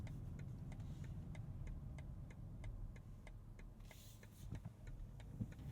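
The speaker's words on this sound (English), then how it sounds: "And next, the turn signal sound." Turn signal on a 2023 BMW X7 M60i ticking in a steady, even rhythm, quiet and close inside the cabin over a low engine hum.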